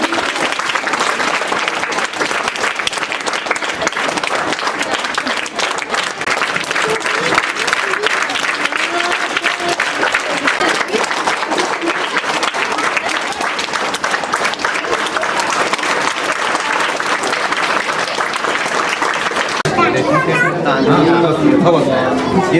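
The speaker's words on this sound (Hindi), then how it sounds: "बच्चे ताली बजाते रहेंगे।" Children clapping at a school admission festival, a loud continuous rapid patter of many small hands sustained throughout, mixed with crowd chatter and voices.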